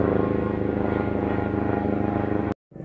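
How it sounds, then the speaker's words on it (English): Steady, loud rotor and engine drone of a helicopter approaching overhead near a yurt camp, holding constant for several seconds before cutting off abruptly, then a quieter rumble resumes. "It sounds like we got a helicopter coming"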